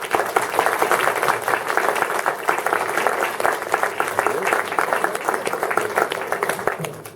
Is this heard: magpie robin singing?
no